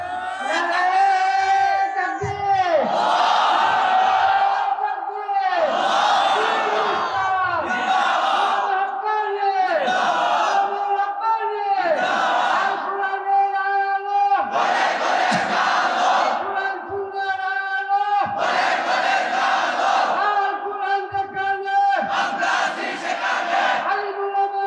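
A large crowd at a Bengali religious gathering chants takbir slogans in loud, rhythmic call-and-response bursts, roughly every two to three seconds, filling the space continuously for the whole stretch.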